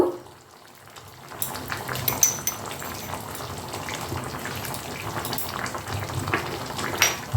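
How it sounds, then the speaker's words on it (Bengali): Taro stem curry cooked with a hilsa fish head bubbles as it boils in the pot, a steady close simmering texture that starts faint and then holds at a moderate level throughout. "দেখো কচুর গাঠি তরকারিটা আমার ফুটে উঠেছে।"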